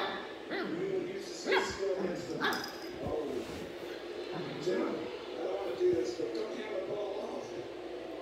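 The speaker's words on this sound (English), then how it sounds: "Stop barking." A dog whimpers and yips in short bursts, close by, while people talk over it.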